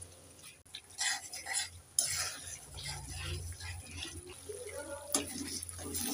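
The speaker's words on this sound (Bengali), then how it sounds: "এবার নেড়ে চেড়ে মশলাটাকে আমি 4-5 মিনিট ভালো করে কষে নেব" Spice paste being stirred and fried with a little water makes soft scraping and wet stirring noises close by, with a few clinks of a utensil and a brief louder knock.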